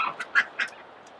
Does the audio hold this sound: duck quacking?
yes